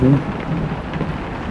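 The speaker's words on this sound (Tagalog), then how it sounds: "Ulan na naman." Steady rain hisses throughout, with a brief low tonal hum at the start.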